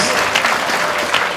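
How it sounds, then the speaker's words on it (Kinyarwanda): Steady, full applause from a crowd of wedding guests clapping for a group of girls, sustained and close throughout with no break. "amashyi menshi kuri aba bana b'abakobwa"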